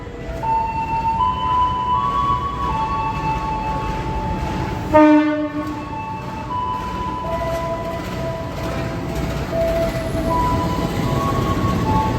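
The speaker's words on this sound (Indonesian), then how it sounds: "Ini dia teman-teman kereta api Kahuripan dari Blitar menuju" Kahuripan passenger train running from Blitar, heard close with steady rail rumble and a loud, sustained multi-tone horn blast near the middle, with lower-pitched horn tones recurring before and after.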